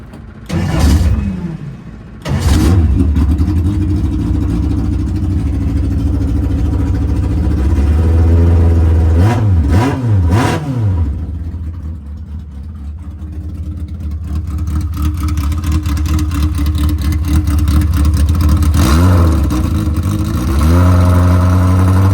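Engine running on a dyno with no exhaust fitted, loud and raw, revving up sharply several times with rising and falling whoops between stretches of rough, throbbing idle, very close.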